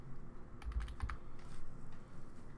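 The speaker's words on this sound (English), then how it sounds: "I'm going to type chunky here." Text typed on a computer keyboard, a short burst of several quick key clicks near the middle, close and fairly quiet over faint room hum, with no voice.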